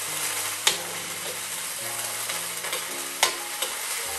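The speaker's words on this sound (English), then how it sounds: "Here it's sizzling, well, you can smell that fish" Flathead fish stir frying in a pan sizzles steadily, with a couple of sharp clatters from stirring or the utensil striking the pan and faint background tones, no voices present.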